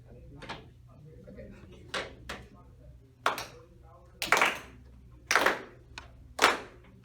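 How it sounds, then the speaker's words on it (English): A crowd at a high school basketball quarterfinal claps along to a rhythm, giving sharp hand claps at uneven intervals of about a second, growing louder toward the end over a faint low hum. "I'd appreciate if everyone started clapping their hands along with my rhythm"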